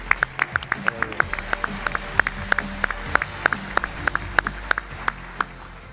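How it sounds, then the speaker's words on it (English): Sparse clapping from a small audience greets a competitor walking out at a startup pitch competition, individual claps ringing out distinctly over a low background hum rather than blending into a roar. "Let's give him a round of applause."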